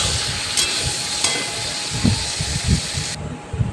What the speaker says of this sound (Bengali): এরপর আমি ভালো করে ভাজা ভাজা করে নিচ্ছি।